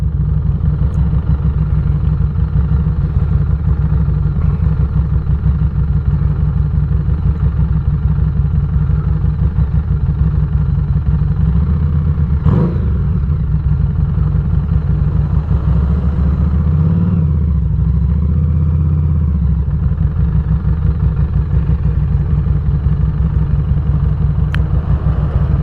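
A Harley-Davidson motorcycle engine rumbles steadily and loudly up close, a continuous low throbbing idle with a brief clank partway through.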